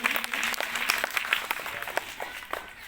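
Schoolchildren clap for a guest at a village gathering, a quick burst of sharp, scattered claps that thin out into separate individual hits, moderately loud and close, with a faint tone running beneath.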